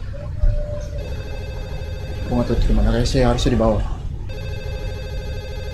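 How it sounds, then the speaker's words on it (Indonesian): A telephone rings in the next room in a horror video game. The repeated electronic ring continues steadily through most of the clip while a person talks over the middle section. "Di ruang sebelah ada suara telepon."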